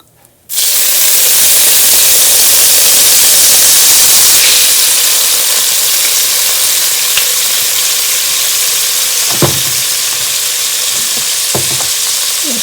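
Balsamic vinegar hits a hot stew pan with browned bits and bursts into a loud, sudden sizzle that holds as a steady hiss, with a few faint scrapes and taps later, close and with no talking.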